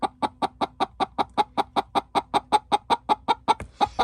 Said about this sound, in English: She's making noises to let others know that maybe there's a danger in here.